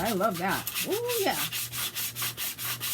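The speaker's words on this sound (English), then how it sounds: "I love the sound of sanding." Sandpaper rubbing over a junk journal cover with a mixed media surface, a rhythmic back-and-forth scratching repeated several times, close up, with someone speaking briefly over the first strokes.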